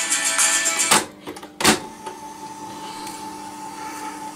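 An Akai GX4000D reel-to-reel tape deck starts fast forwarding with a loud, rising whir and mechanical clunks. A sharp clunk follows as it stops, leaving a steady motor hum.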